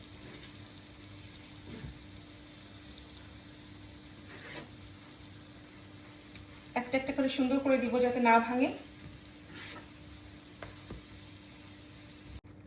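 Fried eggplant pieces for achari begun are laid into a hot spice mix, giving a short burst of sizzling and frying that rises and fades over a couple of seconds while someone speaks over faint background sounds.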